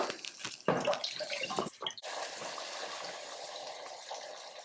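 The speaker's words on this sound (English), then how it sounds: "we're going to add 2 cups of water" A few clattering knocks and splashes give way to a steady stream of water pouring into a pot, continuing at an even level.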